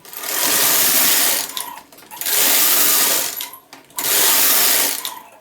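A knitting machine carriage sweeps back and forth three times, knitting rows of a mock rib cap, each pass a loud, close mechanical whirring rush with clicks and a brief pause between strokes.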